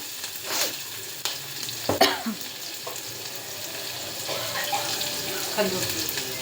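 Ginger-garlic paste, curry leaves and onion fry in a pan with cumin and mustard seeds, giving a soft, continuous sizzle broken by several sharp stirring scrapes and clinks.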